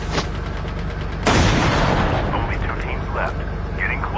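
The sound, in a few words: gunfire in the video game Call of Duty Mobile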